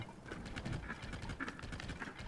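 A horse in Zelda: Tears of the Kingdom trots at a steady, rhythmic clip-clop, with hooves beating close and evenly throughout.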